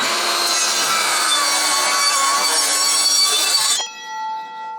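An Evolution power saw cuts 18 mm MDF board without dust extraction, giving a loud, steady, rasping whine for nearly four seconds before the blade exits and the motor winds down, with no talking.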